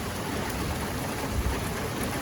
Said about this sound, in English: We're coming here out of the rain, and we have thunderstorms too.